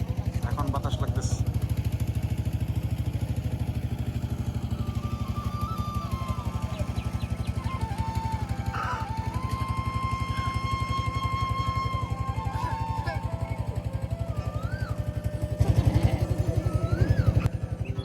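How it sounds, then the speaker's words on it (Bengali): A motor boat trawler engine chugs steadily and loudly as the boat leaves a trawler ghat, a continuous low throb running throughout with a voice talking over it. "এখন আমাদের নৌকা ছাড়তেছে। এটা হচ্ছে কলমাকান্দা নৌকা ঘাট বা ট্রলার ঘাট।"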